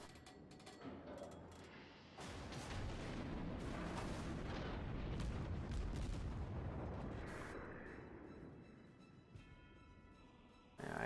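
Naval artillery shells fire in the World of Warships video game, building into a loud, sustained rumbling roar of blasts that swells, then slowly fades, with no talking.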